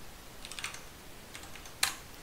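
A few soft bursts of keystrokes on a computer keyboard while setting up a Linux terminal, faint and scattered, ending in one sharper key tap, with no talking.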